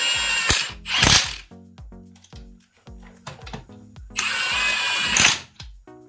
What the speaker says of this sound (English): the variable speed trigger on the Milwaukee comes in handy for this because I don't want to go too fast